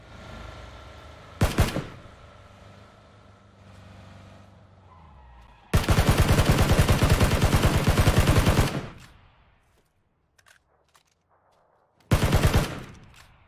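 Mini 14 rifle fire in the battle royale game PUBG: loud rapid bursts of automatic-sounding shots, one short burst early, a sustained three-second volley, then another short burst after a quiet gap with faint movement.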